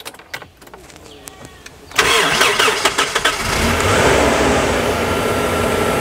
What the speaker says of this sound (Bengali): আচ্ছা ভাই, একটু স্টার্ট করেন তো।